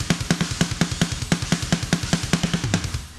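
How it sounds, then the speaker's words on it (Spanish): A drum track with a light, soft reverb and no saturation plays a punchy, regular beat of sharp kick and snare hits in quick succession, loud and alone. "aquí tengo la pista de batería"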